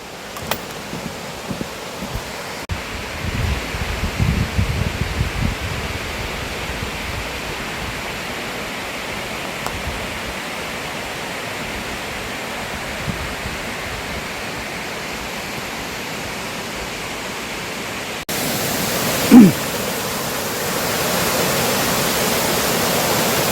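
A waterfall deep in a mountain valley produces a steady, broadband rushing roar that holds constant throughout, with a brief louder swell near the end.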